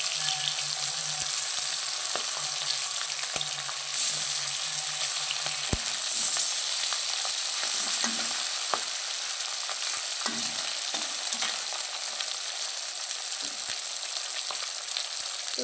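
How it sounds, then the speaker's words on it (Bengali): Small chela fish fry in hot oil, a loud continuous sizzle and crackle with occasional stirring and turning clicks, no voices. "তো দেখো এই মাছগুলো ভাজা হয়ে গেছে"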